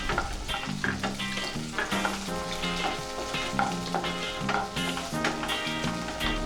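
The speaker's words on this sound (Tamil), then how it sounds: "அதோடு சேர்த்து வெங்காயம், குடமிளகாய், மிளகாய்த்தூள் எல்லாம் சேர்த்து வதக்கிக்கணுங்க" Onion, capsicum and chili powder sauté in hot oil for an egg chili fry. A soft sizzle with stirring runs under louder background music throughout.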